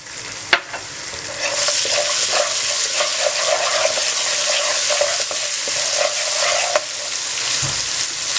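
Dry spices and green chillies sizzle loudly in a frying pan as they are stirred continuously, a bright, hissing fry with a sharp clack of the utensil near the start and no talking.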